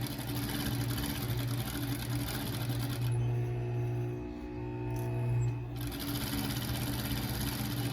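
A sewing machine stitches a fabric face mask with a loud, steady, close mechanical whir that stops briefly for a pivot and then starts again, and no voices are heard.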